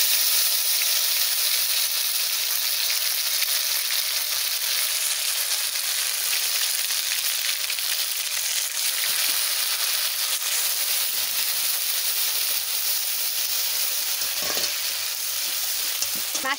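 Ground spices and cumin fry in hot mustard oil, a loud continuous close-up sizzle and hiss with stirring scrapes running throughout, with no voices.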